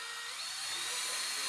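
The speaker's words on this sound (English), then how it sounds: "we're screwing in the uprights into the lower and upper plates" A power drill driving screws through the uprights into the lower and upper plates of a round above-ground pool, a short high whirring burst close by.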